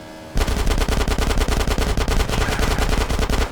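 Rapid automatic gunfire in Grand Theft Auto: San Andreas bursts in after a short quiet moment and continues in a fast, relentless rhythm, loud and close.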